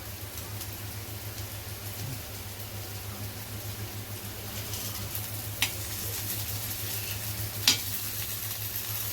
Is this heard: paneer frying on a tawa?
yes